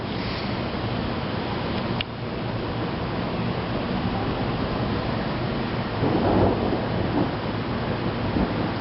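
Low rumbling thunder rolls through a severe thunderstorm in Gastonia, North Carolina, a steady broad roar with a sharper crack early on and a swelling rumble later, steady rain or wind hiss underneath.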